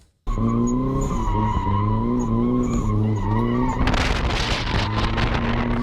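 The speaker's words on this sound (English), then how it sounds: "Came in a little too hot and spun out a couple times." A drift car on a track revs with a strong droning engine note that rises and falls, then its tires break into a loud, harsh screech as it slides and spins out, close and continuous.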